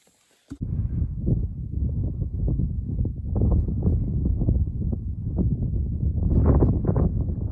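Loud wind buffets the microphone in rough, rumbling gusts that roar continuously with no pause.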